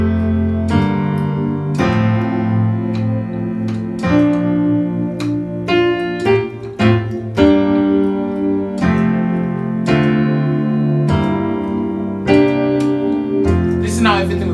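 Keyboard plays worship-style chord voicings in F with diminished passing chords, full sustained chords changing every second or two, close and steady with no talking over them.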